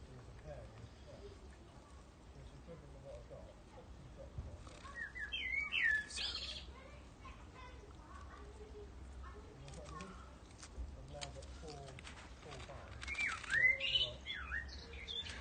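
Pet bird chirping indoors in short bursts of bright tweets, fairly faint against a quiet room background with some low rustling.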